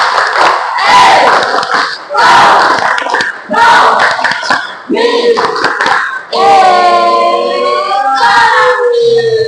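A school class shouts a rhythmic Indonesian clapping chant in bursts, punctuated by claps, ending in a loud sustained group cry; close and energetic.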